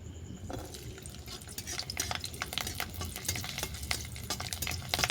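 Garlic cloves stirred and fried in oil in a pan, with a steady low sizzle under repeated sharp scrapes and taps of a spatula, close and fairly quiet, no voices.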